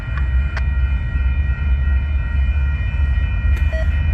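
Union Pacific freight train led by locomotive 9787 rolls past near a train bridge, a loud continuous low rumble of wheels and cars with steady tonal hum and a couple of brief sharp squeals.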